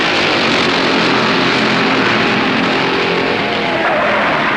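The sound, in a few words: 1964 stock cars racing at Darlington Southern 500 start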